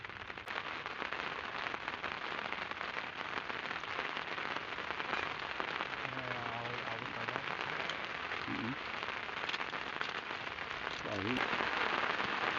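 Rain falls steadily around a fishing spot at Saguling Reservoir in West Java, a dense, even patter throughout with faint voices and a few tonal calls in the background.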